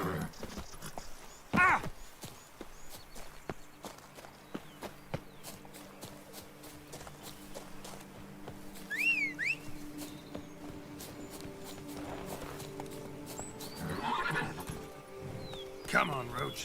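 Geralt's horse Roach in The Witcher 3: Blood & Wine walks with soft, scattered hoof clip-clops, a sharp sound near the start and a whinny-like call midway, under background game music.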